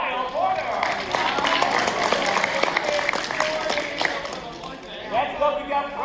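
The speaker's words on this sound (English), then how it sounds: "Let's just give a huge round of applause for Kyle Porter." Applause at a cross country awards banquet, clapping running underneath voices that talk over it, with cheering and chatter from a crowded room.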